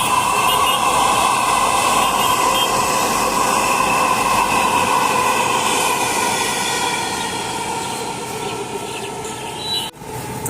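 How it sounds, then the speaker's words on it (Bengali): A Dhaka metro rail train runs past a rooftop restaurant, a loud, steady rumble with a broad whine that slowly eases toward the end, with no talk over it. "আপনি এখান থেকে মেট্রো রেল উপভোগ করতে পারবেন"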